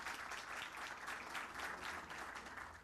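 An audience at a smartphone industry congress applauds steadily as Sandra Turchi is welcomed to the stage, a dense, even wash of clapping with no voices over it.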